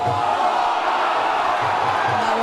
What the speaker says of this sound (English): The crowd are enjoying that one.